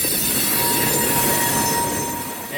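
Train wheels squeal loudly and continuously as a crew pushes in a loaded railroad tank car, a harsh grinding screech with a steady rumble underneath that fades slightly toward the end.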